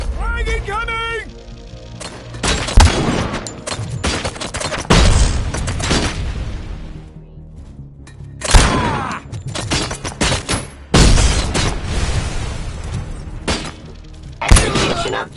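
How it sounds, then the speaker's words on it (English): A frag grenade going off in a video game amid combat, with several loud booms and shattering blasts mixed with gunfire bursts and game voices, heard close and harsh in repeated clusters. "Frag incoming!"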